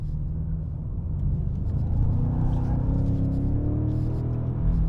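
A BMW M5 drifting on the road, heard from inside as a steady, loud low engine drone and rumble for five seconds, with a rising tone as the revs build and no talking.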